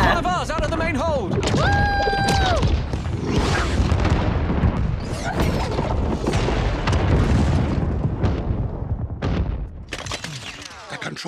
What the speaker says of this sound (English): The control ship has been destroyed.